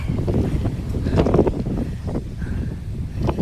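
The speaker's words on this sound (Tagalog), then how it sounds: "malakas talaga ang hangin" Strong wind in Tanay, Rizal buffets the microphone in a steady, heavy roar with low rumbling gusts throughout; no voices.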